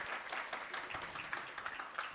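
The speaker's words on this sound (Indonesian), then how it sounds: "Boleh sekali lagi kita berikan tepuk tangannya?" Clapping from the audience at a talk show held at a campus event, a soft, fairly distant patter of many hands that runs steadily throughout the short stretch.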